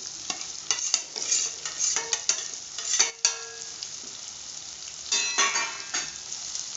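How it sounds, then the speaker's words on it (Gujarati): Fried potatoes are stirred into spices in a pan, a spoon scraping in repeated bursts over a low sizzle, close and clear with no talk. "હવે બધા બટેકા અને મસાલો આપણો મિક્સ કરી લેશું"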